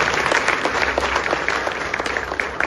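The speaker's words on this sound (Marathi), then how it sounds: "त्याबद्दल जोरदार टाळ्या वाजवून त्यांचं अभिनंदन करावं." Applause at a political rally in Pune, a steady wash of crowd clapping at fairly close range that holds throughout, with no one speaking over it.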